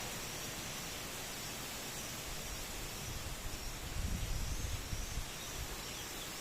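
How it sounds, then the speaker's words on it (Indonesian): Strong wind blows across a hillside among durian trees as a faint, steady, broad hiss, swelling into a slightly louder rushing gust toward the middle before easing back. "Kencang sekali ini ya guys anginnya."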